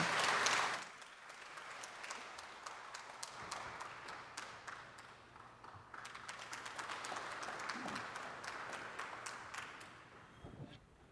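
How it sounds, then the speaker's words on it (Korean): Audience applause welcoming a university music faculty ensemble onto the stage at a commemorative ceremony, a steady sustained clapping from a crowded hall lasting several seconds before fading out. "여러분 큰 박수로 맞이해 주시기 바랍니다."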